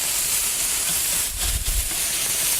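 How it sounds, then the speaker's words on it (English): Water boils hard in a pot on a kitchen stove, ready for manicotti noodles, a loud, steady hiss and rolling bubble with a low, churning swell in the middle, and nobody speaking. "And our water is boiling"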